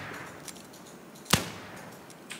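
A single sharp gunshot cracks out in the Wild West Online video game, loud and sudden against a quiet background with a few faint clicks around it.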